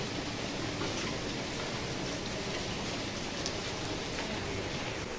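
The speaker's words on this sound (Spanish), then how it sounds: "Llegó la lluvia aquí a La Habana, caballero." Steady rain falls in Havana on a late August morning, a soft continuous hiss of drops on surfaces, even and unbroken throughout, heard at a moderate distance with no voices.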